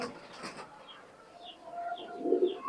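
Pigeons from an imported high-flying bloodline, a male and female pair, coo softly in short, faint low calls, with some light chirps and quiet background noise.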